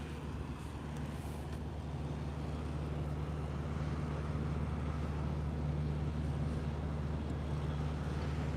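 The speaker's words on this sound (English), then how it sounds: "But we definitely have a lot of trucks here tonight." Trucks and other traffic rumble past the SpaceX Starbase main gate in Boca Chica, Texas at night, a continuous low droning engine noise heard from a distance, steady and faint, with no voices.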